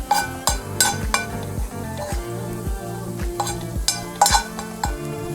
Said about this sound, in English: We'll just pan fry them too.